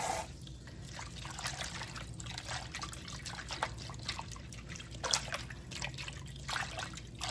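Tap water running and trickling over fresh tomatoes being washed for homemade pizza sauce, a steady close splashing stream with brief louder gushes as the fruit is rinsed under it.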